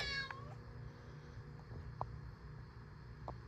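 A cat gives a short, quiet meow near the start, over a low steady hum, with a few faint clicks afterward.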